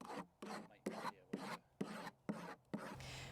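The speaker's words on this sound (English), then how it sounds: "we can do that with the utility knife by taking scratches on there" A utility knife scoring scratches into the wooden perch panel of a bat house, heard as seven or eight close, loud rasping strokes in a steady back-and-forth rhythm with brief pauses between them.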